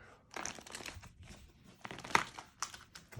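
Cards of a Marvel Legendary hero deck are shuffled by hand at a tabletop game session, giving several close, dry papery riffles and crinkling bursts with short pauses between them and no talking.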